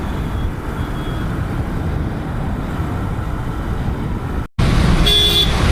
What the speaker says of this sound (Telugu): ఒట్టి కొడుతూ ఉంటారు హారన్.